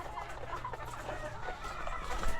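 Clucking from a chicken that cannot stand, kept in a cage at the side, heard close and fairly quiet over a low steady background hum.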